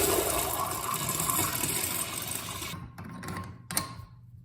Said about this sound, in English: Wow, nice flush.